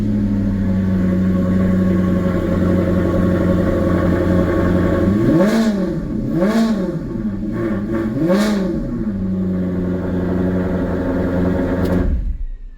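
A Maserati GranTurismo engine idles with a steady low rumble, then revs sharply three times in quick succession, each rise and fall loud and close, before settling back to idle and cutting off at the end.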